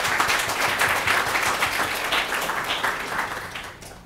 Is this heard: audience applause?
yes